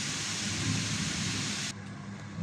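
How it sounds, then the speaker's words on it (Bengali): Low thunder rumbles from a distant storm beneath a steady hiss of rain or wind, and the hiss drops away abruptly partway through. "গড়গড় করে মেঘ ডাকছে"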